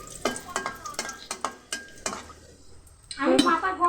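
Dried chillies hit hot oil in a pan for potato curry, with a series of sharp clinks and scrapes of a utensil, then a burst of loud sizzling frying near the end.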